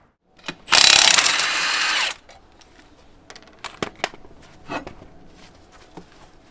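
A ratchet works on a Jeep shock absorber bolt: a loud, rapid clicking burst of about a second and a half, then scattered metallic clinks and tool handling nearby.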